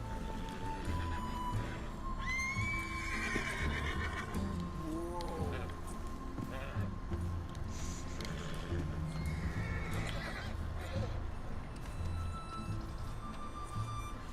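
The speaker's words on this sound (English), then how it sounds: "Deixa eu alimentar o cavalo." A horse in the video game Red Dead Redemption 2 whinnies several times amid outdoor ambience, with soft hoof clops and a steady background hum throughout.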